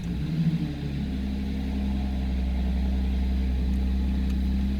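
A car engine catches at the start, then settles into a steady, moderately loud idle with a low hum, no talking.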